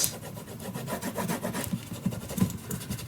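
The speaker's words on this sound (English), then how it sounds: "So just burnish the edges real nice." A hand burnishes the edges of paper in quick repeated rubbing strokes, a soft, rhythmic brushing scrape heard close up with no talking.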